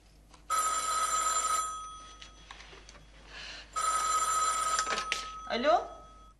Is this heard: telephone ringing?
yes